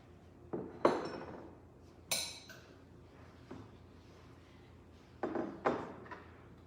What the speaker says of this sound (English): you're just gonna take a fork and get in there and scoop all that goodness out